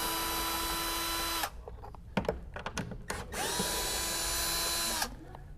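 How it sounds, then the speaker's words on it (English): A small power drill spins and unscrews 10mm bolts on the door of a 2008 Lexus GX470, with two long whirring bursts separated by metallic clicks and clatter, loud and close. "So grab a little drill."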